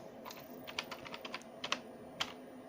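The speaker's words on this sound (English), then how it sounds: "and then typing it all out." Quiet computer-keyboard typing, with irregular clusters of crisp keystrokes and short pauses between them, in a calm room.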